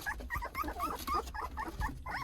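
West Siberian Laika puppies whimper and yip close by in a kennel, a quick run of thin, wavering cries and little howls.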